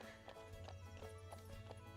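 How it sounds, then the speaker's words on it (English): Hooves of a wild horse clop in the video game The Ranch of Rivershine, a steady rhythm of about five soft hoofbeats over a low hum. "She's a wild horse that we snatched."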